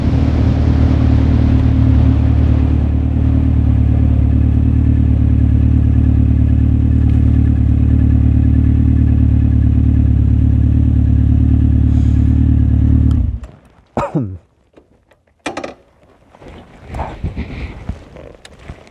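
A 2014 Honda CB1100 engine drones loud and steady while riding, a deep continuous rumble that cuts off after about thirteen seconds, leaving scattered handling noises and clatter.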